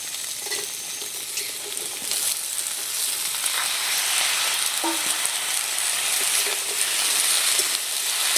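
Taro flowers and lightly fried spiced crabs cook together in a pan, giving a continuous close sizzle with occasional soft stirring scrapes and clicks over the whole stretch.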